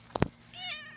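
A cat meows twice in quick succession close by, loud and short, followed by a quieter wavering tone with no talking.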